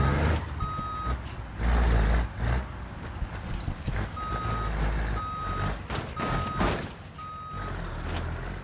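Truck reversing alarm in BeamNG career mode, steady repeating beeps in short bursts with pauses, over the low rumble of a heavy hauling rig's engine and occasional air hiss.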